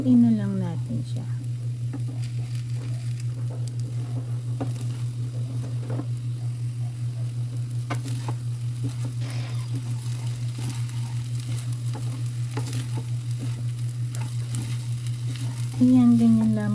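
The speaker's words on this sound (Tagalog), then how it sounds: "Isunod natin ang itlog. Basagin lamang sa gitna. And then, haluin na lang natin siya." Eggs cracked into a pan with Cabanatuan batutay longaniza and stirred together, giving a steady, even sizzle of frying that runs the whole time with soft stirring scrapes and a low constant hum beneath.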